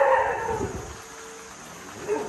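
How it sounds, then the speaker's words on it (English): A dog on a farm in Thailand gives a few short barks and whimpery yips, fairly close, with a brief pause between bursts. "Bung Bung, stop barking"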